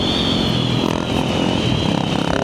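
A Suzuki GSX-8R motorcycle of roughly 800 cc accelerates in B riding mode, its engine a steady, loud, close drone holding throughout with a slight dip midway.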